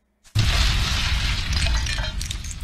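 In the video game Castle Wars 2.5, a wall is destroyed with a sudden loud crashing boom that breaks out of silence and then rolls on as a sustained crumbling, rumbling roar for a couple of seconds.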